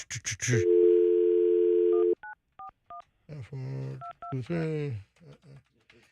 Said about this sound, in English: Let me dial up his number.